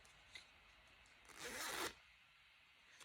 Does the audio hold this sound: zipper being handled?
yes